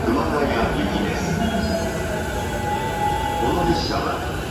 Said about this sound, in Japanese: 今度の4番線の列車は16時46分発高崎線直通普通熊谷行きです。